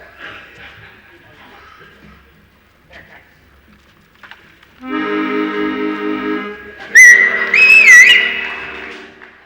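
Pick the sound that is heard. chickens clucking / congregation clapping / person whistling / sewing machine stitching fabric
person whistling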